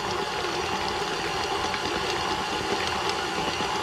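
Electric stand mixer beating two eggs into cookie dough, a steady close whirring motor hum with a light rattling churn, constant throughout with no talking.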